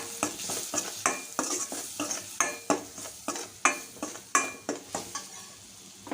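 Spices and chili stirred into a frying mixture in a pan for a paneer bread roll filling: a steady rhythm of spoon scrapes, roughly two per second, over a soft sizzle, close and clear with no talking.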